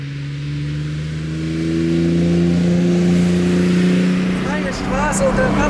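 A 1970 Mercedes 280 SL Pagode, fully restored, accelerates up a small mountain road, its engine note climbing steadily in pitch and loudness as the revs build, with a gear change near the end.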